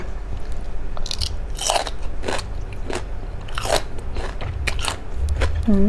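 Close, crisp crunching as raw bitter gourd is bitten and chewed alongside Thai papaya salad with crab paste, repeated sharp bites and moist chewing over about six seconds.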